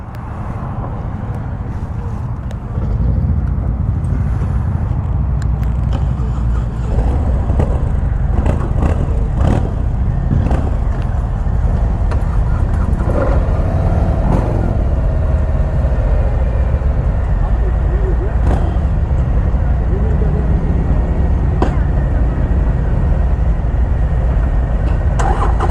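Harley-Davidson Sportster 48 motorcycle engine firing up and then running, a loud, close, steady low rumble with wind buffeting over it.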